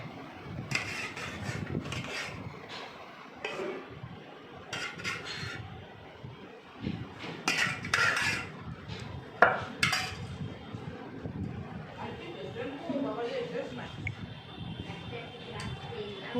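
Uncooked rice tipped into a cooking pot for biryani, with clatter of pot and utensils scattered throughout over steady background noise while a person talks nearby.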